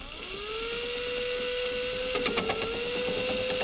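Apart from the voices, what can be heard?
drill boring a hole in a car door panel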